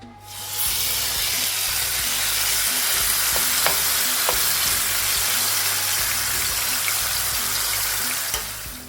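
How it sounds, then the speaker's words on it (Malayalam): Marinated chicken drops into hot oil for a Turkish-style chicken curry and bursts into a loud, dense, continuous sizzle over high flame. The crackling stays strong and close, with a few faint utensil taps and no speech. "എണ്ണ ചൂടായതിലേക്ക് ചിക്കൻ ഇട്ട് കൊടുക്കുക"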